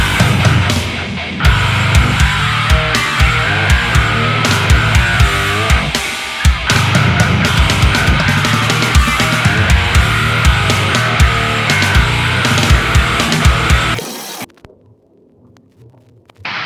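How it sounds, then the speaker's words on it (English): Dense, loud Ibanez 28-inch scale baritone electric guitar with RGIB21 bridge pickup, heavy low-end chords, continuous and driving, cutting off abruptly near the end into near silence. "it's a 28-inch scale baritone from Ibanez, and it looks and sounds like this."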